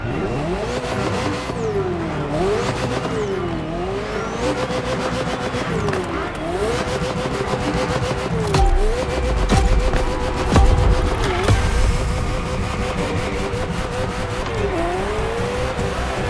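A Ferrari F40 in The Crew Motorfest racing game roars continuously, its engine pitch rising and dipping through repeated shifts while tires squeal and skid, loud and close throughout.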